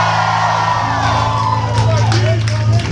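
A concert crowd at a punk band show screams, whoops and cheers in a loud, dense roar that carries through the whole stretch, with a voice talking over the noise.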